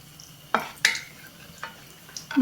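Cumin, cinnamon and cardamom frying in a pan, heard as a few scattered scraping stirs and clinks of a spoon against the pan over a faint background sizzle.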